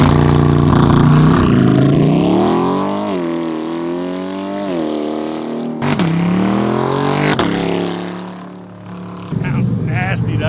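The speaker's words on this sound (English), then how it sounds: "I want to do a couple drive-bys and share with you this exhaust." A modified 2020 Corvette passes by with loud, rising and falling exhaust roar, two distinct drive-bys with sharp revving peaks and fading tails, close and dominant.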